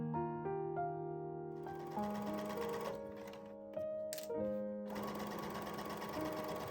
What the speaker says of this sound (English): Next, sew the front center panel to the side panels.